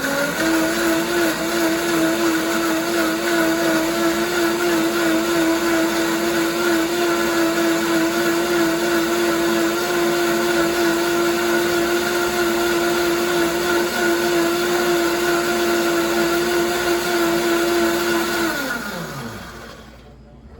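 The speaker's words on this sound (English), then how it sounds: "you always want to blend the nuts and seeds first with less liquid to make it really, really creamy so the blender can just work better" A kitchen blender runs continuously at high speed, blending nuts and seeds with water into a creamy milk. The loud, steady motor whine holds for about eighteen seconds, then winds down and stops.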